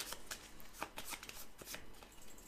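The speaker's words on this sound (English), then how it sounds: "Then we give that deck a bit of a shuffle" A deck of Terminator Dark Fate board game cards is riffled and shuffled in quick soft bursts, close and quiet, with no talk.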